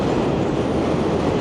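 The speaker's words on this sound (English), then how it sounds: "There goes the subway line again." A New York City subway train rumbles past in Woodside, Queens, a loud, steady, close roar of rails and wheels with faint clatter, filling the whole moment without any talking.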